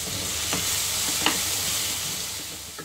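Steady sizzling of turmeric, coriander powder and ginger-garlic paste frying in a hot pan, with a few soft stirring scrapes breaking through the continuous hiss.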